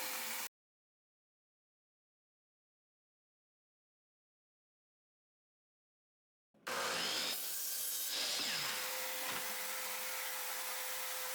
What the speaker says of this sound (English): Set your miter saw to 5 degrees, and chop off the size of the 1x4s.